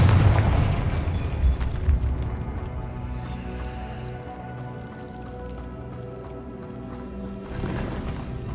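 A Confringo fire spell explodes in Hogwarts Legacy, a loud booming blast up front that rolls off into a long, fading rumble and ringing tail, with a smaller burst swelling near the end.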